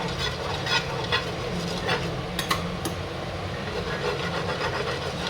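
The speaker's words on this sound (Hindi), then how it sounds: "इस चम्मच की मदद से ये मैं पूरे में ऑयल फैला दूंगी।" Metal spoon scraping and swirling mustard oil across a hot pan, with a steady soft sizzle and a few sharp clinks of spoon against the pan, heard alone up close.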